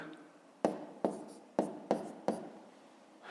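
A pen or pencil writes digits by hand on paper during a long-multiplication exercise, making five sharp, close scratching strokes in a quick, uneven rhythm over a faint background hiss.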